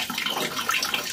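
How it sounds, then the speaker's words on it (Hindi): Water pours steadily into a washing machine drum already loaded with clothes, a close, continuous rushing splash with no talk over it. "यहाँ पे मशीन है हमारी और इसमें अभी पानी भर रहा है"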